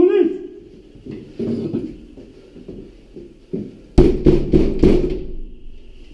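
Police knocking hard on an apartment door during a raid: a burst of four or five loud, rapid thuds near the end, after earlier commotion with voices shouting and people talking throughout.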